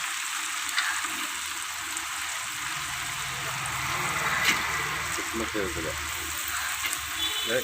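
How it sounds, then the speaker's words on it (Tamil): Cashew nuts sizzle steadily in hot ghee while ghee rice is being made, a constant bright frying hiss with small pops and stirring, as a voice talks over it. "இப்போ நான் சேர்க்குறேன் முந்திரி பருப்பு"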